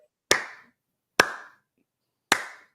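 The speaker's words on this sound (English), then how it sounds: "Slow clap." Three slow, deliberate hand claps spaced about a second apart, each sharp and close with a short ringing decay, in otherwise quiet surroundings.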